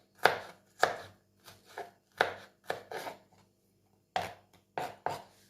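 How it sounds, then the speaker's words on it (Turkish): A knife chops içli köfte ingredients on a board by hand, irregular crisp thuds in quick clusters with short pauses between, close and clear. "Ondan dolayı elle doğramak istedim"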